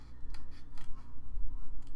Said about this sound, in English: I might can clean it up a little bit with my detail scissors.